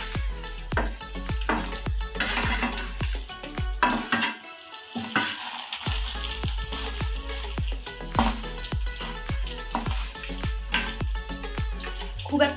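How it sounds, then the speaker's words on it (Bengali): Paneer pieces frying in a small pan, a continuous bright sizzle broken by repeated clinking stirs and scrapes, with a short quieter pause midway and no voices. "পাত্রটা ছোটো তো তিনটে করে ভেজে নিলাম। এবারে উল্টে দিচ্ছি, এক টক করে ভাজা হয়ে গেছে।"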